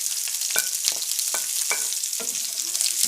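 Chopped green chillies and ginger frying in hot oil for a Kerala wild lemon pickle, a bright continuous sizzle broken by several sharp scraping stirs of a spoon in the pan, close up with no talking.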